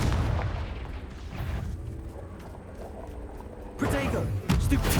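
A Confringo fire spell bursts in Hogwarts Legacy combat, a loud roaring blast with crackling spray, rising again near the end amid continuous game noise and a shouted spell.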